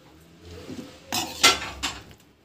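A spoon clinks and scrapes against a metal pot while lemon rice is stirred and mixed, three distinct clanks in a row over a quiet kitchen background, with no talking.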